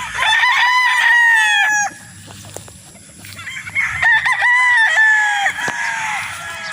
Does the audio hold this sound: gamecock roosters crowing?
yes